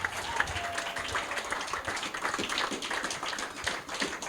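A church congregation applauds during a service, a steady dense patter of many hands clapping at moderate distance, sustained throughout with faint voices mixed in.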